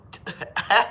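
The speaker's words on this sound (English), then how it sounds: "I have a cold, so you have to forgive me if I cough a little." One short, harsh cough from a man with a cold, in a few quick bursts, close to the microphone.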